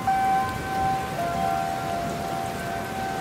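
Steady, dense rain falls without pause in a cartoon soundscape, a continuous even hiss with a few faint tonal tones above it and no clear thunder.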